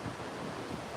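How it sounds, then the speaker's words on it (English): Sea waves at the southernmost point of Taiwan wash in a faint, continuous broadband hiss mixed with wind buffeting the microphone. "You can see the sea behind me."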